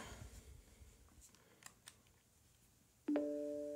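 A Plantronics Calisto 620 Bluetooth speakerphone is switched on: a few faint clicks and handling taps, then a sudden clear electronic power-up chime near the end, close and distinct.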